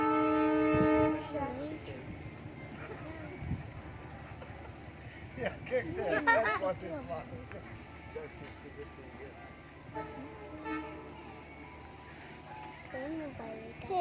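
The Bandhan Express international train arrives, its horn sounding at the start before a rolling rumble and scattered clanks pass nearby, with people talking over the scene.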